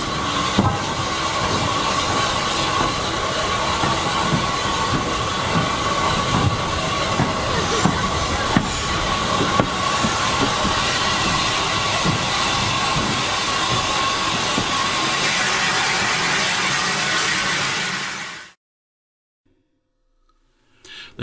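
An Adams T3 steam locomotive on a heritage railway pulls its train into Swanage station with a loud, steady rumble, clatter and hiss that continues for most of the clip before cutting off into near silence.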